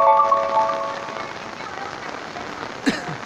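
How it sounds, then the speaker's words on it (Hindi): Heavy rain falling in Godhra Colony, New Karachi, as a steady broadband wash of drops on surfaces, with a brief sharper splash or knock near the end; no talk. "शदीद बारिश हो रही है"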